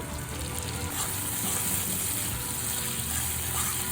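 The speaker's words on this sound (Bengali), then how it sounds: "এই মশলাটা আমি ভালো করে তেলের মধ্যে ভেজে নেব।" A paste of two ground dried red chillies and half an inch of ginger fries in oil over low-to-medium heat for a prawn and potato curry, giving a steady, close, even sizzle with no talk.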